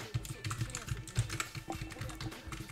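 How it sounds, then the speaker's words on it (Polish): Computer keyboard typing during a session of the online game Theris, a run of irregular key clicks mixed with a person talking over it. "Oj, ta moja klawiatura."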